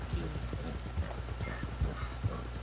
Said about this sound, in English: Here's another donkey.